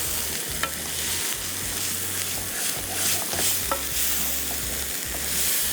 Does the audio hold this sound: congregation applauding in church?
no